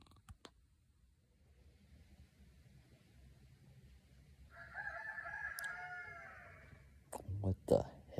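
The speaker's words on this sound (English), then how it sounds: "What the heck are roosters doing up at 3-something in the morning?" Roosters crowing in the dark early morning hours outdoors, one distant drawn-out crow rising mid-clip over quiet night ambience, followed by closer sharp calls and scattered noises.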